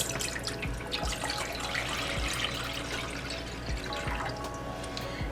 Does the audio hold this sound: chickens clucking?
no